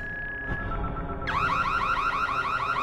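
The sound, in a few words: emergency alarm sounding, from the movie Don't Breathe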